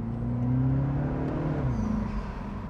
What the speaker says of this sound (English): You not only hear whooshing, but you also hear really, really satisfying wastegate flutter.